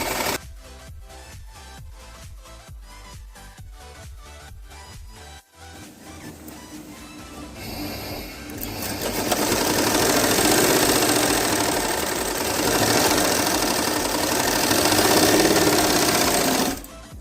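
A sewing machine stitches along the neckline of a blouse: a run of rapid, evenly spaced clicks, then a louder, denser whirring that carries on steadily to the end. No one speaks.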